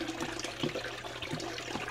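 Water poured and sloshed into a gold pan holding dirt during a gold clean-up, with a close, continuous splashing and trickling and small gurgles, no voices.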